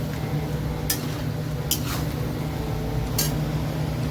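Spice masala sautéing in a pan: a steady close sizzling hiss throughout, broken by a few sharp metallic clinks of a spoon against the pan, with no talking.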